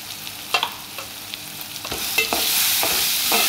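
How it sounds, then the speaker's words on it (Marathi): Cumin seeds frying in oil for biryani: a few sharp clicks and stirring scrapes, then a steady hiss of sizzling that swells and stays loud through the second half, with no voices. "आणि आपलं थोडंसं ह्याच्यामध्ये जिरं घालूया।"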